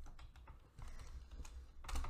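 Quick, close clicking of computer keyboard keys as a command is typed, in short uneven bursts with no voice.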